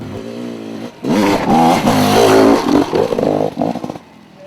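2006 Gasgas enduro motorcycle revving up close, the engine jumping from a steady idle into loud, fluttering blips of throttle that rise and fall before settling back down.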